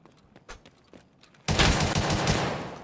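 A gun in Escape From Tarkov opens up in a loud, sustained burst of rapid shots after a second and a half of quieter scattered clicks and movement.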